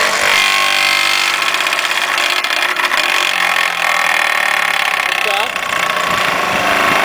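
The electric motor of a Vee-Bee consistometer vibrating fresh concrete in a lab test, a loud steady rattling drone with a buzzing vibration throughout, heard close and continuous.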